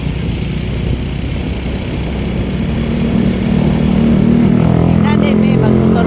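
A motorcycle rides along with a steady, continuous engine drone and road rumble throughout, loud and close, with a low tone rising slightly partway through; voices talk intermittently under the engine noise.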